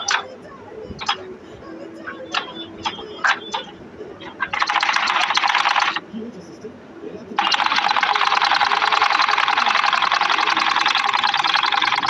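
A sewing machine stitches the round side of an Arabian jubba, first a few ticking clicks, then a short whirring burst, a pause, and a longer steady run of stitching close by.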